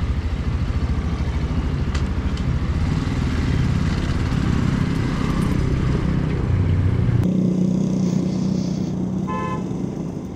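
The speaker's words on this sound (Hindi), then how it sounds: "अब एक छोटी सी राइड पे चलते हैं और देखते हैं कि ये कैसी इसकी सस्पेंशन है" Suzuki GD 110S 2022 motorcycle ridden on the road, its small engine droning steadily and loud throughout with wind and traffic noise, a short high tonal beep near the end.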